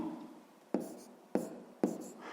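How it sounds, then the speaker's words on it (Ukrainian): Pen writing an answer by hand on paper for a fifth-grade maths fraction exercise, a soft continuous scratch broken by three sharp taps as the pen lifts and strikes again, close and quiet. "Пишемо тоді відповідь."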